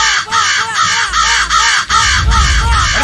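Loud, close crows caw repeatedly in harsh, rapid calls, one after another with barely a pause, over a low rumbling background.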